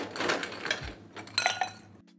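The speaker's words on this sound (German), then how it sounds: "Wie immer, Glas mit Eis." Ice cubes dropped into a glass for a non-alcoholic aperitif drink, giving several bright clinks and knocks close by over about two seconds before falling quiet.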